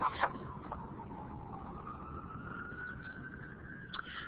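An emergency siren wails through downtown Baltimore, a single sustained tone that drifts slowly up in pitch, heard from a moderate distance over low city rumble.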